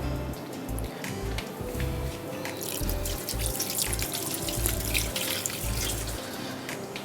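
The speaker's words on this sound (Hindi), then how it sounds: "फ़ौरन धो दूँ हाथ" Hands are washed under a running kitchen tap after handling red chillies, a steady, close rush of water splashing into the sink that keeps going without a break, with no speech.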